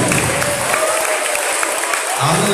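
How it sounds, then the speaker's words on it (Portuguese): Many hands clap steadily as a church congregation applauds together, forming a thick, loud, unbroken patter, while a voice rises briefly near the end over the clapping. "Vamos melhorar essas palmas, porque é para louvar e adorar a Jesus."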